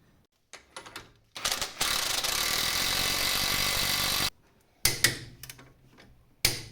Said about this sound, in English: also the connecting rod bolt, and now we have to torque them to spec.